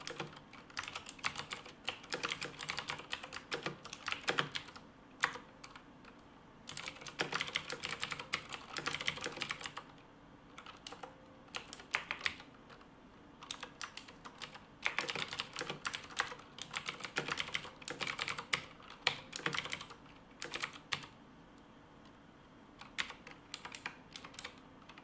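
Code being typed on a computer keyboard: bursts of quiet, rapid key clicks separated by short pauses, close and soft, continuing with no talking.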